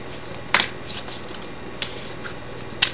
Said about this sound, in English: Just get these cards shuffled up.